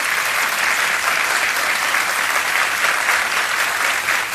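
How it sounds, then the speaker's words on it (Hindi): Studio audience on the KBC game show applauding loudly as a 25 lakh rupee cheque is presented, a dense, steady roar of clapping that holds at full strength throughout, with no talk over it. "एक बार फिर जोरदार तालियां बजाएं"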